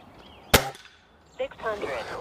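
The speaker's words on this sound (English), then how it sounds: "this is the first time to shoot these slugs out of this air gun." A Weihrauch HW35E spring-piston air rifle fires one JSB Knockout .177 slug of 10.03 grains. A single loud, sharp crack sounds up close with a short springy thud, followed by a brief voice.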